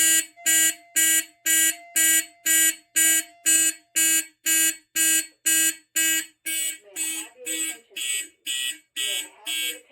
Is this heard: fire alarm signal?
yes